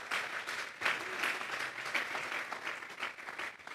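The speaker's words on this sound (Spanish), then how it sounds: "Vamos a darle un fuerte aplauso pues al Señor" A congregation claps together during a church service, a steady dense wash of applause filling the room for several seconds without a break, with no voice rising above it.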